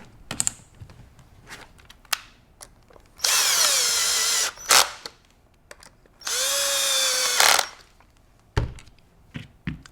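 A power drill whirs in two sustained bursts, each about a second long, with clicks and light tapping between them, driving screws into a bolt-action rifle during assembly; close and fairly loud.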